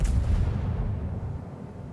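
Giulio Cesare battleship main guns firing in World of Warships, a deep booming salvo rolling into a long low rumble that fades.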